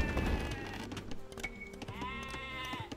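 Sheep bleat in the video game Age of Empires 2, a few wavering, nasal baas close by, one after another over faint background game sounds.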